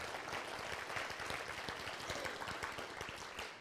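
An audience claps after a presentation on infrastructure, a faint, steady patter of many hands heard from a distance.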